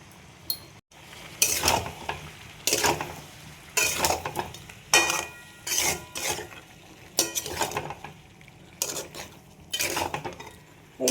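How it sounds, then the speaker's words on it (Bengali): Tomato, ginger and garlic paste with turmeric sautéed in a pan for aloo dum, metal spoon scraping and clanking in bursts every second or so over a low background sizzle, no voices. "এইভাবে মশলাটা কষিয়ে নেব।"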